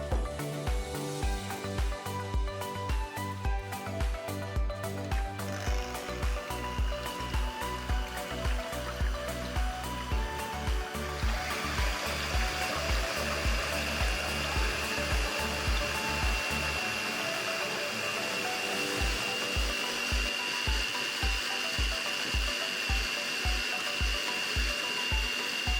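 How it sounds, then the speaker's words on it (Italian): Whipping 500 ml of fresh cream with an electric mixer: a steady, continuous whirring motor drone with a rhythmic pulse runs throughout, changing pitch and texture partway as the cream thickens, close and loud. "Quindi monta 500 ml di panna fresca."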